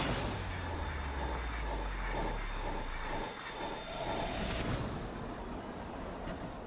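A train in a Scream 6 trailer scene gives a steady, loud rumbling rush with a hissing, squealing edge, constant throughout and swelling slightly near the end.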